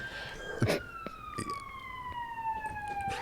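Behind a fast-food drive-through, an ambulance siren wails steadily from a moderate distance, its tone sliding slowly downward, with faint background noise and no talk.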